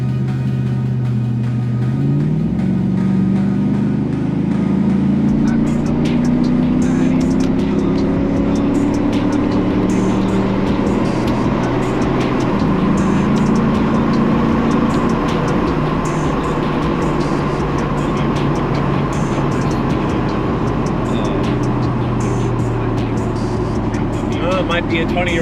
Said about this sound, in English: It might be a 20-year-old truck with a stock V8 under the hood, but somehow, some way, it still puts a smile on my face every time you give it the beans